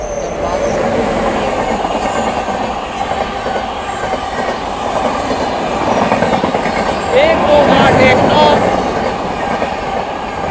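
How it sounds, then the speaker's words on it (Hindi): The Odisha Sampark Kranti Express from Bhubaneswar to Anand Vihar Terminal passes close by, a steady loud rumble of rail cars with clattering wheels and brief squeals, a voice talking faintly underneath. "भुवनेश्वर चलकर आनंद विहार टर्मिनल को जाने वाली ओडिशा संपर्क क्रांति एक्सप्रेस।"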